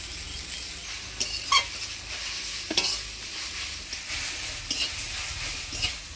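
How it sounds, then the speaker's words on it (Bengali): Sweet potato greens frying and being stirred in a hot pan of oil with onion, green chilli and salt, a soft steady sizzle broken by scattered scraping clicks of the spatula, close and moderately quiet with no talking. "শাকটা ভাজা ভাজা করে নিলাম।"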